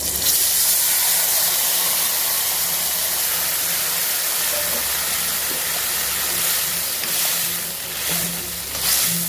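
Tamarind water poured into a hot pan for a chilli thokku, a loud, broad, steady hiss of sizzling and steam that carries on for several seconds, easing slightly toward the end.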